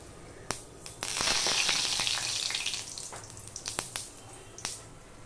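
White sesame seeds dropped into hot oil in a wok burst into a loud hissing sizzle that fades, with sharp popping crackles and clicks scattered before and after.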